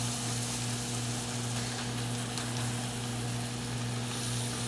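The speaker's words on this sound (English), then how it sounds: "Get these hamburger steaks and flippy flip." Hamburger steaks frying in a pan with onions nearby, a steady close sizzle with a constant low hum underneath, even in level from start to end and free of talk.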